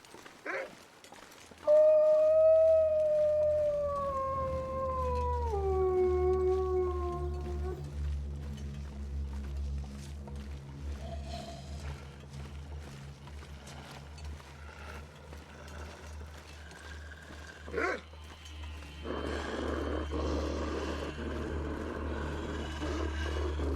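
A wolf in the survival game The Long Dark lets out a long wavering howl that slides downward and fades, over a steady low wind-like rumble, with a few faint growls and thuds later.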